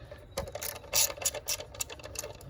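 A ratchet undoes a nut on the engine of a Jeep Grand Cherokee Laredo 4.7 V8 during a spark plug job, giving short bursts of rapid metallic clicks, close and alone.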